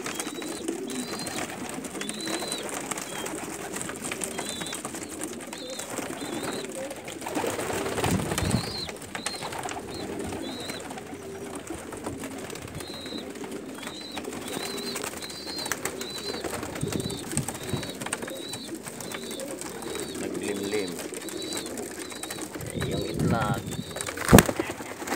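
Pigeons of various breeds, including American homers, coo in crowded cages holding about a hundred birds each in Umluj, Saudi Arabia, with repeated soft coos over a busy background, occasional wing flaps and a voice talking.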